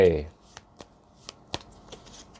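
Tarot cards being shuffled and handled during a reading: a short burst of speech at the start, then a few soft, quick card flicks and slaps close by.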